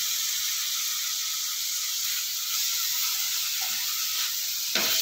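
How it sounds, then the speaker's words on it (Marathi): Chopped tomato with salt frying with onion in a pan while cooking palak dal, a steady broadband sizzle and hiss close by, continuous for the whole stretch with a brief louder stir near the end. "टोमॅटो घातला की लगेच आपण यामध्ये थोडंसं मीठ घालून घ्यायचं आहे म्हणजे टोमॅटो अगदी छान शिजतो।"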